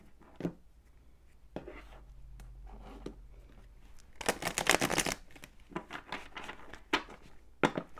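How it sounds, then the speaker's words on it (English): A deck of tarot cards riffled in one quick, crisp burst of rapid flutters, close and fairly quiet, with a few scattered taps and card handling before and after. "One more shuffle."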